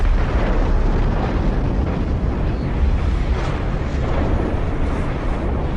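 A nuclear explosion gives a loud, sustained, deep roaring rumble with broadband noise that holds steady throughout, with no voices.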